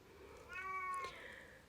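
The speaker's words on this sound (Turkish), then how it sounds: "Tabii benim kedim bağırmaya başladı" A house cat at home lets out a single loud meow, a short drawn-out cry that rises and falls, then the room goes quiet again.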